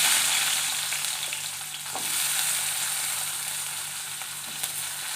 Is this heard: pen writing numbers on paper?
no